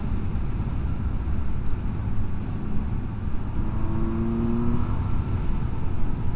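A 2025 Benda LFC700 motorcycle engine running at steady speed, a smooth continuous drone under loud wind rush, with a brief rise in pitch partway through.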